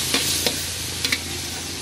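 Holy basil, squid and long beans are stir-fried in a wok by a Thai street vendor, giving a steady loud sizzle broken by a few sharp scrapes of the wok turner.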